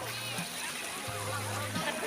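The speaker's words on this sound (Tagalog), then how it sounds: "Doon na, naliligo na yung aking mga anak at mga apo." Children and grandchildren bathe in the sea at Paradise Beach on Bantayan Island, with light splashes and sloshing water under a steady wash, while a nearby voice talks over the scene.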